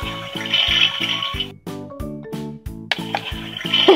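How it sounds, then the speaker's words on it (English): A vintage Barbie motorhome's toy toilet plays an electronic flushing sound effect: loud, tinny repeated tones with a rushing, watery hiss, pausing briefly before the effect starts again. "The toilet really flushes, and the toilet seat goes up and down too."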